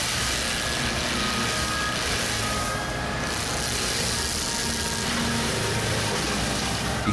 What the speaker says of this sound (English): The Fecon FTX 128L is a machine that is specialized in crushing and clearing vegetation.